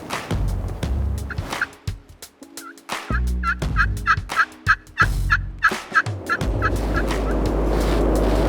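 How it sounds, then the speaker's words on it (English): A wild turkey gobbler in Colorado gobbling repeatedly in a long rattling run, fairly close, over low rumbling background noise. "There's another gobbler back behind us."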